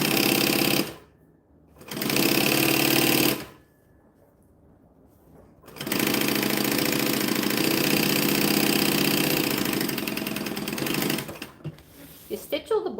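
A sewing machine stitches along the bottom of a handmade bag in loud whirring runs: two short bursts, a pause, then a long steady run ending in stuttering stops, with people talking nearby.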